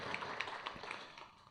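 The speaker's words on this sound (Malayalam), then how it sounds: "നമുക്ക് കൈയടിച്ച് സ്വാഗതം ചെയ്യാം." An audience at a Bible Society of India Kerala Auxiliary officers' ceremony claps to welcome a bishop, faint, scattered, uneven hand claps in a quiet hall that thin out toward the end.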